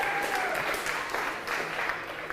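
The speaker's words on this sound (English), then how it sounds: "Got a big cheer for Asia." A crowd claps and cheers for a competitor called Asia at a finals awards ceremony, a dense burst of applause with voices that holds steady and then thins slightly toward the end.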